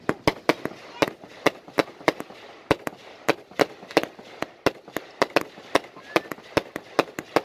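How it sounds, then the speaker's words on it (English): Summer fireworks exploding in a steady run of sharp, loud bangs, roughly two or three per second, each a crisp broadband crack with a short rumbling tail, continuing without pause and with no talk over them. "I don't want to hear the fireworks."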